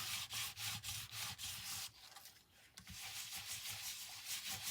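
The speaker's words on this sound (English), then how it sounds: "take this black Soot Distress Oxide pad and rub it over" Black Soot Distress Oxide ink pad rubbed back and forth over a reverse-embossed paper background panel, giving a steady dry scrubbing sound in short repeated strokes, close up and fairly quiet with a brief pause midway.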